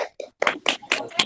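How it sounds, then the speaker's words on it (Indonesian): Children in a second-grade class clap their hands together in several short, uneven bursts, close by, with a brief murmur between the claps. "tepuk tangan dulu untuk kelas"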